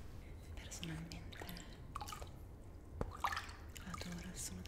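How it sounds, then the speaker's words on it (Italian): Water drips in a Finnish sauna during a spa roleplay, scattered soft drops and splashes close by, irregular and quiet, with faint whispering around them. "adoro il suono dell'acqua."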